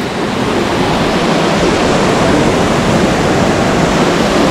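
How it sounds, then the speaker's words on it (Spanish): A small waterfall on a river bank in Cajón del Maipo pours with a continuous, loud, broadband rush that stays steady throughout, close by with no talking over it. "por este lado podemos ver una pequeña cascada"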